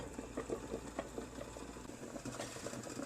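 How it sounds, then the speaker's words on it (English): A pot of water holding veal tongue keeps up a constant boil over high-medium heat, quiet bubbling with soft repeated pops and gurgles over a low steady hum. "the veal tongue continues to cook at a high-medium heat, constant boil"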